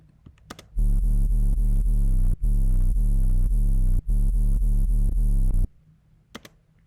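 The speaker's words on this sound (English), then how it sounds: "the sub sounds like this." Deep sub bass from a Serum synth plays as a loud, sustained low tone for about five seconds, broken by two short gaps, with faint clicks before and after.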